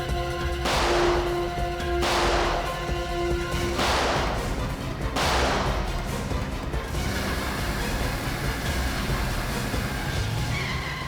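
Gunfire in a TV crime drama: four loud, evenly spaced gunshots ring out with echoing tails, followed by a lingering rumble of ambience.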